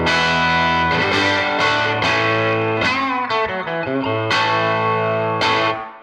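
A Collings 290 electric guitar plays sustained, ringing chords through a warm, quiet Class A Silktone tube amp, each strum blooming with lush reverb and trailing off smoothly.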